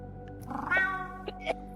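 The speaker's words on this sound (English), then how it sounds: "I love the delay on the cat sound playing whenever you join." A single cat meow plays as a video game's join sound effect, one clear, close, drawn-out call standing alone over faint background tones.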